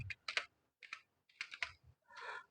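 Close fingers tap keys on a computer keyboard in quick irregular bursts of clicks with short pauses, the last stroke a longer scraping press, in an otherwise quiet room.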